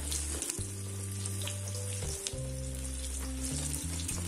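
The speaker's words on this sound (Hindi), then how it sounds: "तो फ्राई करते हैं, शुरू करते हैं फ्राई करना।" Gram flour coated naan pakora deep frying in hot oil, a steady crackling sizzle with a low electrical hum running beneath, occasional sharper pops and no talking.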